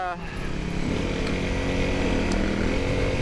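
A Honda CRF250L dirt bike climbing a flowy forest trail uphill, its single-cylinder engine droning steadily and loudly close by, with a voice talking over it.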